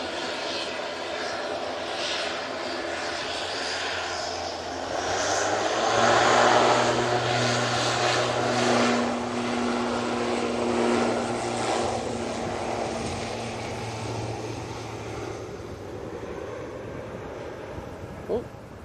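An airliner departs Manchester Airport for the Isle of Man, its engine roar and propeller drone swelling loud, then slowly fading over many seconds, with a person talking quietly beneath.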